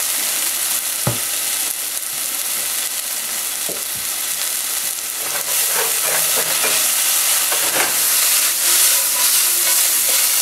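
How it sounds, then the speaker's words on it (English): Onions with a pinch of salt sizzle in a hot frying pan, a loud, constant close-up hiss and crackle, with a few clinks and stirring scrapes, no one talking. "you can hear our onions sizzling away in our pan here"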